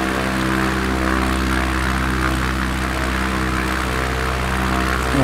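Steady drone of an ERCO 415 light propeller plane's engine in Microsoft Flight Simulator, heard from inside as a continuous hum with strong harmonic buzz, holding level with a slight shift near the end and no talk.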